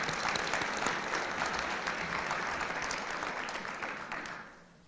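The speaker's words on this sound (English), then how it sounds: "Let's give them a big round of applause" Audience clapping at a guide dog class graduation, a steady wash of applause from a moderately distant crowd that holds for several seconds and then fades out near the end.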